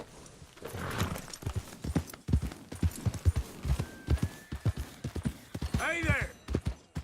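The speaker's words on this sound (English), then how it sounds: "Oh, hi, horse." A horse in Red Dead Redemption II clip-clops at a steady walking rhythm, its hooves close and distinct, with a brief whinny near the end while someone talks over it.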